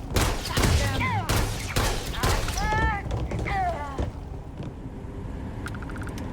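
Rapid bursts of gunfire in the Starfield video game, dense cracking shots layered with thumps and whistling sci-fi weapon sounds, loud and continuous before easing off near the end.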